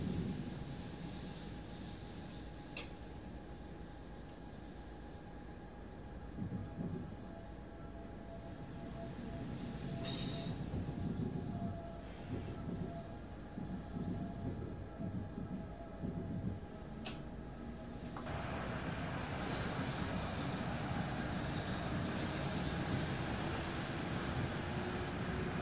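An ICE high-speed train in the Train Simulator game runs over points near Munich, giving a steady low rumble and rolling hum with faint clicks, and the noise swells slightly toward the end.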